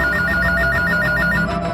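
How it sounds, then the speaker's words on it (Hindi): A telephone rings at police headquarters on the Dial 100 emergency line, a loud electronic ringtone pulsing in quick repeated bursts close up. "कुछ दिन पहले पुलिस हेडक्वार्टर्स में डायल 100 पर एक फोन कॉल आया।"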